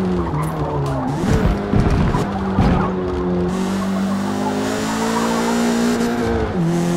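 Race car in Forza Motorsport, a VW Golf, taking a corner badly: a steady engine drone holds pitch and rises slightly, with tire squeal and skidding bursts early on, loud and continuous throughout.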